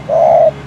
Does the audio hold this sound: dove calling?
yes